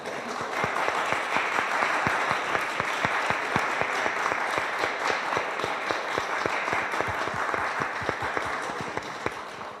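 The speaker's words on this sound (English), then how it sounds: "So I would like to invite you to give a big applause to all the" Sustained applause from an audience for artists at an art conference, dense steady clapping filling the whole stretch with sharp individual claps standing out, fairly close and even in loudness throughout.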